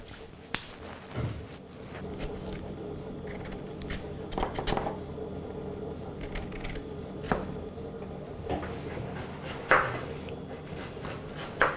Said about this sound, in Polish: pokroić cebulę na drobną kosteczkę